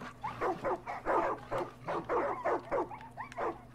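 Dog barking in the video game Far Cry 5, a rapid run of about a dozen close, loud barks and yips in quick rhythm with a few short whimpers between them.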